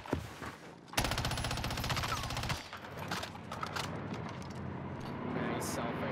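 Rapid automatic gunfire in a first-person shooter, a long dense burst followed by scattered shots and game effects, with a player talking excitedly over it.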